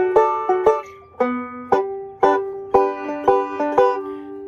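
Banjo vamping in slow waltz time: plucked chords on a banjo repeat in a steady, close, bright rhythm, ringing and clear, with no voices.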